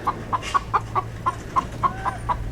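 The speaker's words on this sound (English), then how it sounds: "And this is the hen that eats eggs." A hen kept in isolation in a house yard by a street clucks about ten times in a steady, evenly spaced rhythm, close and clear with a faint background hum and no talk.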